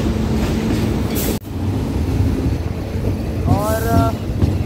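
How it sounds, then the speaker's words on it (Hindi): Pragati Express train at a railway platform, a steady broadband rumble of rail and station noise throughout, with a brief dropout near the start and a rising horn-like tonal sound toward the end. "प्लेटफॉर्म 5 को है अभी ये ट्रेन"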